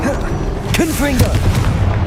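A booming Confringo blast goes off in a Hogwarts Legacy fight, its deep thuds and bright cracks layered over steady game combat noise while voices speak through it.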